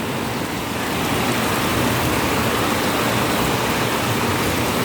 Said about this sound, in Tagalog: Pero ang lakas ng ulan, sobrang lakas ng ulan